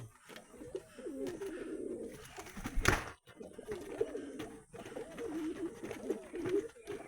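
Caged pigeons, a male and female pair with their young, coo in low, wavering phrases close by, with one short rustling burst midway and no talk over them.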